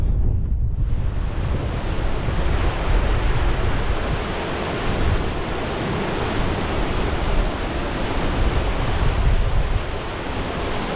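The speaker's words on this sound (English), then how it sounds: "that waterfall that you can see plunging over the edge falls around 300 feet, 100 meters in a single drop" A waterfall plunges about 100 meters in a single drop into the Gaping Gill cave entrance on Ingleborough, giving a loud, continuous broadband roar that holds steady throughout with no voices.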